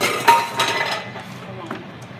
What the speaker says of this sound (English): Gonna get my pot on right here. Gotta get that pot.